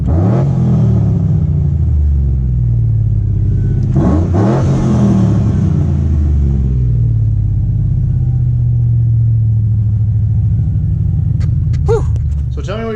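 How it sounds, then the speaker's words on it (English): Chevrolet Silverado pickup truck engine revving loudly up and down in repeated blips, deep rumbling harmonics rising and falling near the microphone, with a brief voice near the end. "I don't think I've ever done a rev video for you guys."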